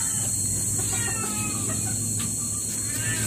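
Hen clucking repeatedly after laying eggs, close and fairly loud over a steady background hiss, with brief crowing-like calls among the clucks.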